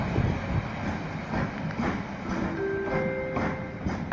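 ZSSK Cargo locomotive 383 202 rolls through Warszawa Wschodnia station, wheels beating out a rhythmic clickety-clack over a loud continuous rumble, with faint thin tonal squeals joining partway through.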